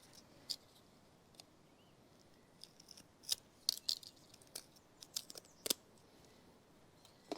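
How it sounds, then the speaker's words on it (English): Tape peeled off a greased pulley on a Chamberlain garage door opener, a series of quiet sharp crackles and ticks in irregular clusters, close up with no talking. "Get the tape off of this pulley."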